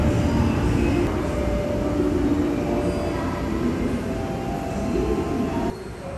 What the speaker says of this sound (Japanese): 福井行きの普通列車が発車していきます